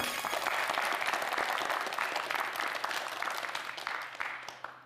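A studio audience at a TV quiz show bursts into dense, sustained applause that stays loud, then tapers off near the end.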